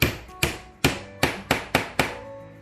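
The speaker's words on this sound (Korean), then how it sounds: "왜냐면 망치 두드리면서" Seven sharp, close hammer blows drive nails into a small wooden toolbox, struck at a steady pace about every third of a second, each with a short ringing decay. No talking.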